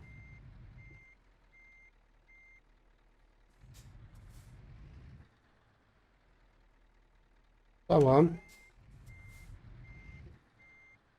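Reversing beeps from a long-nosed truck in Euro Truck Simulator 2 on the Paris map: a steady, evenly spaced electronic beeping, with a voice talking in short bursts and a brief loud speech burst near the end.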